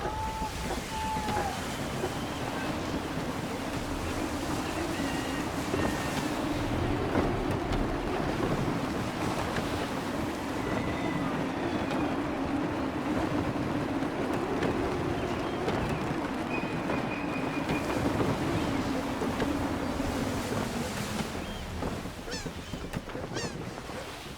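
Gusty wind and rolling sea waves surge around a sailing ship in Assassin's Creed III, a steady, loud roar of water and wind lasting throughout, with faint honking calls and a voice briefly heard over it.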